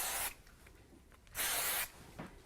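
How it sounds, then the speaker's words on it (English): Two short hissing bursts from a spray can onto a craft card, close and distinct, separated by a quiet pause with faint handling noise. "So we're going to give this a quick spray."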